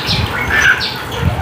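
A pet parrot in a bird room vocalizes in short, close chirps and whistling calls, with faint flutter and low background rustle and no talking.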